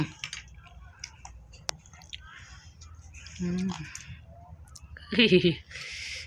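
A child eating noodles, with soft, close, wet chewing and small mouth sounds scattered through quiet moments, broken by brief murmured voices nearby.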